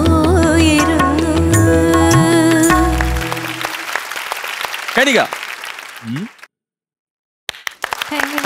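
Music plays at first, then fades, followed by scattered applause from a television talent show audience. Voices speak, and a short silence comes before the sound returns.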